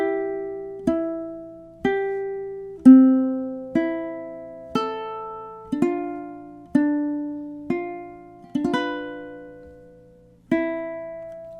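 Ukulele playing bars 25 to 28 of a song's outro: a dozen or so plucked chords and single notes at a slow, steady pace, each ringing and decaying, close and clear with no talk.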